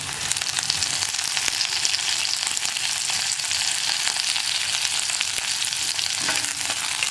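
Onions and curry leaves fry in a pan for an erissery of raw plantain and pumpkin, producing a continuous bright, crackling sizzle that stays loud and even throughout, with no voices.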